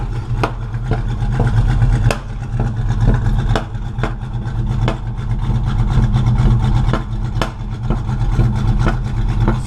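A car engine running rich idles loudly and close by, with a steady low rumble and a regular ticking pulse repeating across the whole stretch, no voices over it.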